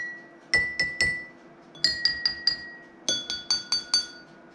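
Drinking glasses holding different amounts of water, an empty one and a full one, struck in quick groups of bright clinking tones that ring briefly at different pitches, close and alone.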